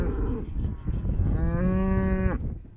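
On a working cattle ranch, a cow gives one long, loud moo with a rising drawn-out tone, heard close over low outdoor rumble and faint background lowing.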